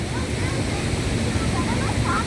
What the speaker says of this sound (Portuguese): É uma mini cachoeira, na verdade.